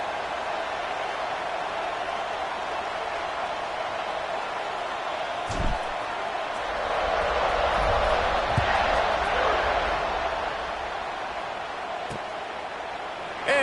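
Steady roar of a stadium crowd in a college football video game featuring Florida International, swelling into louder cheering midway before easing back, with a few sharp thuds on top and no talk.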